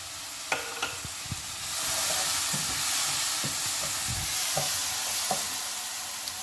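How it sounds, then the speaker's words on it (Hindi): Vermicelli is stirred quickly in milk in a hot pan, giving a steady steamy sizzle broken by sharp scraping knocks of the utensil against the pan. "इसको आपने बस अब तेज़ तेज़ मिक्स करना है"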